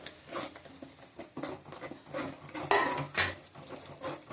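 Lemon pickle ingredients are stirred in a pot, with irregular scraping, tapping and clinking of a utensil against the metal, close and fairly quiet.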